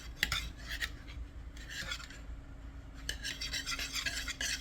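Eggs lightly whisked in a bowl for keto drop biscuits, with melted, cooled butter nearby. A steady, close scraping and ticking of the whisk against the bowl runs continuously, with no talking.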